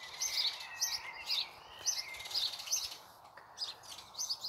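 Birds call from a garden bush near a house roof with a steady series of quick high chirps, fairly close and clear, over quiet outdoor ambience with no voices.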